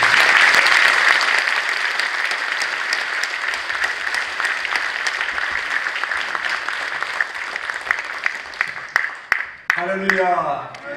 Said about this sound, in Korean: 나오실 때 우리 박수로